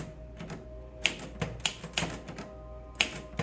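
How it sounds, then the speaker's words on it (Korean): Someone pecks with two fingers at a typewriter in a bookshop, producing slow, irregular clacks of separate keystrokes that are close and crisp, with a few louder strikes and no talking. "이 굉장한 독수리 타법의 타자기 실력은 접니다."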